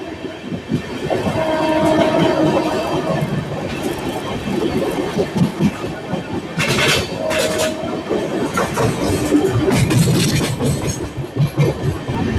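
Ratnachal Express, newly fitted with LHB coaches, running past Kovvur station toward the Godavari arch bridge: a steady close rumble of wheels and coaches with bright metallic screeches and bursts, and no talk.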